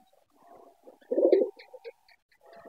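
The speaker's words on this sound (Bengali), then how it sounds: "এই যে এটা হলো এক জোড়া কবুতর" A pair of pigeons kept in a coop with their grown chicks coo softly, with a louder burst of low throaty cooing in the middle among a few short calls, close by with no talking.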